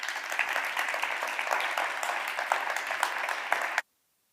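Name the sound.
audience applause welcoming a speaker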